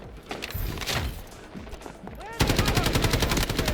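Warning shots from gunfire in the video game Delta Force ring out as loud repeated bursts, with a rapid regular automatic volley dominating the second half over a busy game soundscape.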